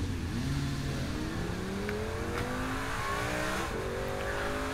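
A car in the video game Saints Row 4 pulls away, its engine revving up steadily through rising gear changes with a continuous loud drone and no talking.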